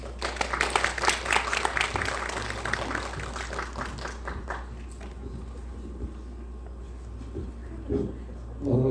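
Applause rings out at a Korean policy debate forum after a presenter finishes, dense clapping fading into a quieter room within a few seconds, with some speech mixed in.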